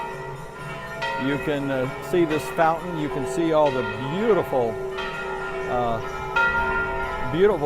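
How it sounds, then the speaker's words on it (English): Church bells ring at noon with a steady, sustained tone in the background while someone talks in the foreground. "You can hear the church bells in the background here at noon."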